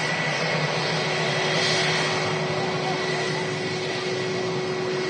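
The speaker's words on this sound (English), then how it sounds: "And here's a slightly louder plane." Aircraft at Manchester Airport, a louder plane producing a continuous broad roar with steady whining tones, sustained and fairly near without talk.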